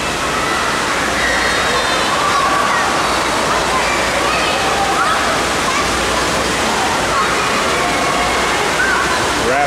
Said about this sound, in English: Waves are coming out of there.